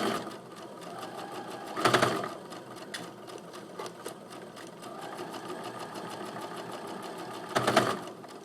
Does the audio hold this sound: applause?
no